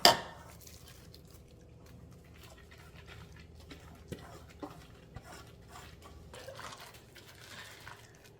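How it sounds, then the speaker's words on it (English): Chili sesame marinade poured over raw crab for Korean marinated crab, heard as quiet liquid splashing and dripping with a few faint clinks of a bowl or utensil. "go ahead and pour it over the crab and marinate."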